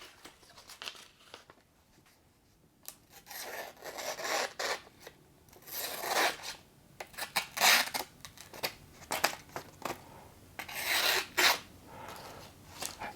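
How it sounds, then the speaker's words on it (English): A multitool's factory-sharp main blade slices through material in a cut test, giving repeated rasping, scraping strokes in bursts, close and fairly quiet, with no one talking. "And let's do a cut test on this one."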